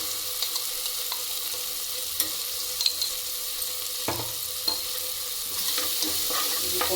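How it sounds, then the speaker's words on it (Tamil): Ginger garlic paste sautés in a pan for mutton curry, a steady close sizzle broken by occasional soft clicks of a stirring spoon, with the hiss swelling slightly toward the end. "இஞ்சி பூண்டு பேஸ்ட் போட்டு நல்லா வதக்கிக்கலாம்"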